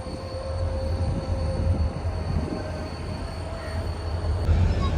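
A train rumbles steadily nearby at Karachi City railway station, with a low engine drone and a faint high whine holding throughout.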